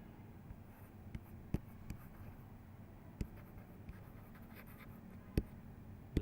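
Pen writing on paper makes soft scratching strokes with occasional sharp taps, quiet against a low background hum.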